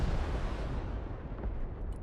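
Missile strikes explode in the Broken Arrow war game, a dense low rumbling blast that fills the clip and then fades out over about two seconds.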